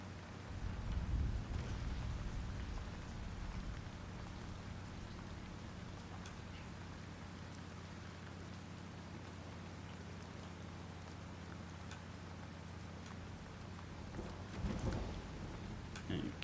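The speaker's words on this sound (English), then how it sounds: "it seems to rain a lot in Nowcott" Steady rain falls in the video game Once Human, a continuous even hiss with faint low rumbles and a few brief thuds, heard alone throughout.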